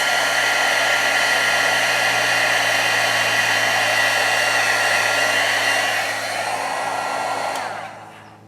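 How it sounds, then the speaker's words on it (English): Heat gun blowing to melt beeswax off a dipped mixed-media piece, a loud steady roaring whine held for several seconds before it winds down and stops. "Bring in my heat gun and melt that off her nose."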